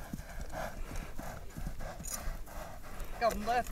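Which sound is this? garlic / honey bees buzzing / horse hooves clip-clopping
horse hooves clip-clopping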